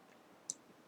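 A single computer mouse click, crisp and close but quiet, in an otherwise near-silent moment.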